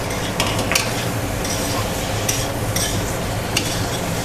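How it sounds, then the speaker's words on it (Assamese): Potatoes frying in hot oil in a pan, a steady sizzle broken by repeated scraping strokes of a spatula stirring them, close up with no talking. "আলুখিনি ধুনীয়াকৈ ভজা গৈছে।"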